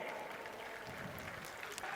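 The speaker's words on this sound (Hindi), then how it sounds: "जोरदार जोरदार तालियां" Clapping from a seated audience at an appointment-letter ceremony in a large venue, a steady wash of many hands under constant hall noise, with no clear rise or fall.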